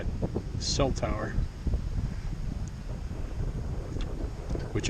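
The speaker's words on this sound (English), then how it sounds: "Wow, this wind is crazy." Strong wind roaring across an apple orchard, a continuous low buffeting rumble against the microphone, with a brief voice and a faint distant call near the start.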